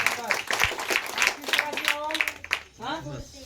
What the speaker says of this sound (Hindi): बहुत बढ़िया, शाबाश, ताली बजाओ बच्चों।